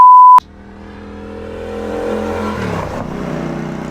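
A Ducati 916 motorcycle on a track day, its engine note climbing steadily as it accelerates after a short electronic beep, loud and close, with a gear change near the end.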